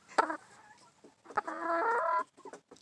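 A chicken clucks up close, a short call followed by a longer run of throaty, warbling clucks, then a few softer ones trailing off.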